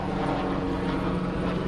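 Helicopter passing overhead, a loud, steady rotor and engine drone that fills the short stretch without a break and with no talk over it.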